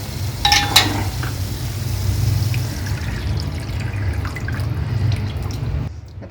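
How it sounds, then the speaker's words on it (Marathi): Water is poured into simmering masala in a cooking pot for a spicy Indian katachi amti soup, a steady trickling wash with a few clinking touches early on, close and moderately loud, with no talking. "आपण यामध्ये घालूया हे सगळं पाणी"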